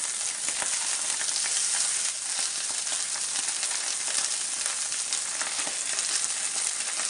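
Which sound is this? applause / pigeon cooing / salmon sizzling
salmon sizzling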